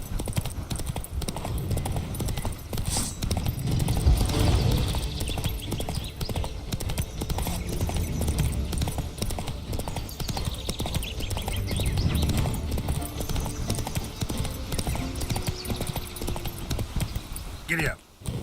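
Horse hooves gallop in The Witcher 3 in a fast, steady clip-clop rhythm with a rumbling game soundscape behind it. A voice talks over the galloping.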